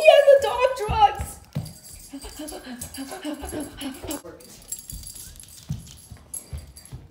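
A dog whimpers in a few high, thin whines at the start, close and fairly loud, followed by quieter shuffling, breathing and scattered small noises.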